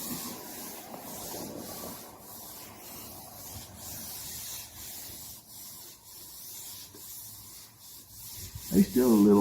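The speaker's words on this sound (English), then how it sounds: "sanding it a little and see if you can still feel it." Sanding on a primed car hood, steady rubbing strokes that scrape close and fairly quiet, with a brief louder knock and rattle near the end.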